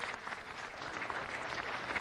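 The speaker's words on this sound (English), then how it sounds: "One round of applause, please." Steady applause from a crowd at a city council meeting, dense and even throughout, with no voices rising above the clapping.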